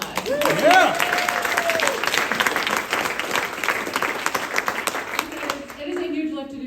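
Applause fills a room during a facilitator training event, with steady clapping from the gathered audience that lasts several seconds and then fades. A voice speaks over the start and the end of the clapping.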